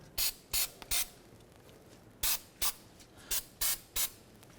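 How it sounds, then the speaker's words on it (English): Short sharp bursts of aerosol brake cleaner hiss repeatedly onto the rear brakes of a Chevy Equinox, three quick ones, a pause, then five more, close and loud. "You can simply go ahead and clean this using a little bit of parts brake cleaner."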